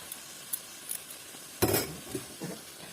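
A utensil stirs chicken cooked with coconut in a pan, giving a soft low sizzle with a few scraping strokes and light clinks, close and without talk.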